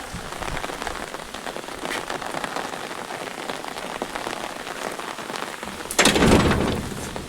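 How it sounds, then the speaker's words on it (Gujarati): Heavy, steady monsoon rain pours down in a dense, even hiss of drops striking surfaces in a village in Amreli district, swelling into a louder, closer wash near the end. "એક ધારો વરસાદ કેટલું પાણી છે"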